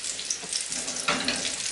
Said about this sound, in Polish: teraz będziemy smażyć na rozgrzanym tłuszczu